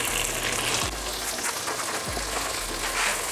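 Dry Mexican-style Rice-a-Roni grains fry in melted butter in a pan, giving a soft, continuous crackling sizzle up close, with faint scraping as the rice is moved around.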